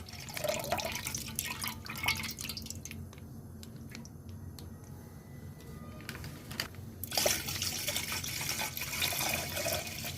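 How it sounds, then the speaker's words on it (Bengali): Milk is poured into a pot that already holds a little water, giving a soft, steady liquid splash and trickle close by, with faint handling noises and a brief pause midway. "এই যে দুধটা দিয়ে দিচ্ছি"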